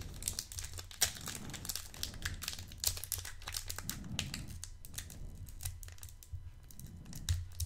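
A Naruto trading card booster pack is torn and opened up close, with crisp crinkling foil and tearing sounds in irregular bursts, quiet and intimate.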